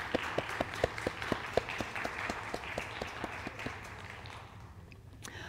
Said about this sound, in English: Let's give a round of applause for our veterans.